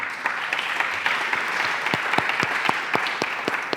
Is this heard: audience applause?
yes